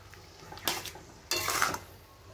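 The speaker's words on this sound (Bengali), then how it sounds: "আমলকিগুলো দিয়ে একটু নাড়াবো।" Amla gooseberries stirred into melted jaggery in a pan, with two short bursts of utensil scraping and clinking against the pan over a quiet background.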